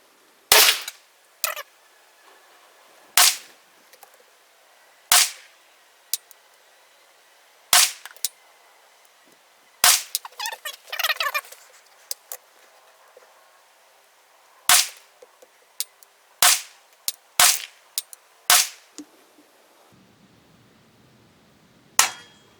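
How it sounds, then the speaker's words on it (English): Sharp gunshots from a Jard J68 bullpup carbine firing subsonic ammunition at a 50-yard outdoor range, loud single reports spaced irregularly with quiet gaps between. "5 shots at 50 yards."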